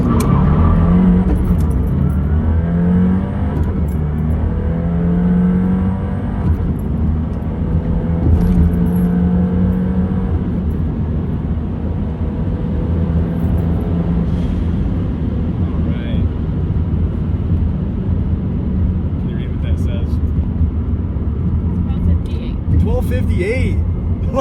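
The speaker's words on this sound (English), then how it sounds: "we're gonna get a pull in here." A Subaru WRX on new wheels pulls hard from a launch, its engine droning loud and steady with rising tones from inside the cabin as a voice talks over it.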